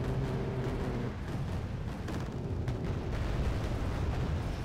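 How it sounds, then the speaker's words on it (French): Ships blow up in a chain reaction in the naval battle game Wargame: Red Dragon, a fairly faint, rolling series of deep booms and crackling blasts that overlap into continuous rumbling with no voices. "Et l'explosion de ce navire a entraîné l'explosion de celui-là."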